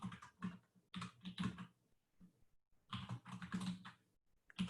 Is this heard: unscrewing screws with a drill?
no